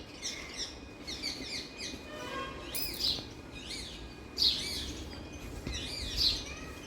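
Parrots and other birds chatter in a lively flock, trading overlapping chirps and shrill calls in bursts, fairly close, with faint outdoor ambience beneath.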